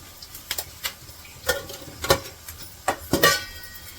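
Garlic and cumin seeds being crushed in a stone mortar with a pestle: scattered sharp knocks and grinding clacks, irregular and close, some louder than others, with no talk.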